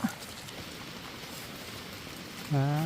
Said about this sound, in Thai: ได้ยินเสียงฝนมาเนาะพี่น้อง